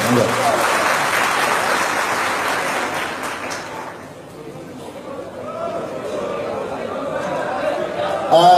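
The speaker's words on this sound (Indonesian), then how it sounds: "Tepuk tangan semuanya, teman-teman sekalian." A crowd at a religious gathering at the PSHT padepokan in Madiun breaks into loud, dense applause for about four seconds, then it fades into a murmur of chatter and voices that keeps going until the end.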